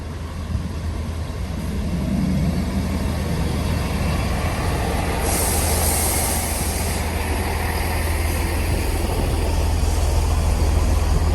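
Former ScotRail 158851 passenger train heard from a window seat inside, giving a steady, loud low rumble and rolling hum that runs unbroken throughout, with no talking.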